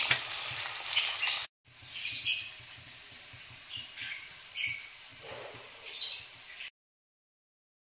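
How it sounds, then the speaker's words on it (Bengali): Potatoes frying in oil for a paneer curry, a steady close sizzle with brief stirring scrapes, dropping out for a moment and then stopping near the end. "আলুটাকে ভেজে রাখছি পনিরের তরকারিটা।"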